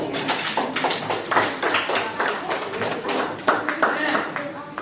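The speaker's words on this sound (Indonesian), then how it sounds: "tepuk tangan buat kelompok 3" A classroom of students claps for a small group, a loose scatter of hand claps with overlapping voices and chatter running underneath throughout.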